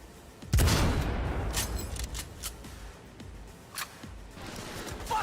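Cyberpunk 2077 fireworks show: a sharp loud boom opens, followed by scattered crackling pops and softer bursts at uneven intervals with a rumbling tail between them.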